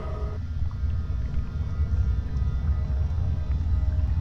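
Boat crossing a river in the adventure game Broken Sword 3: The Sleeping Dragon, a steady low rumble of engine and water churning close by, continuous with no talk.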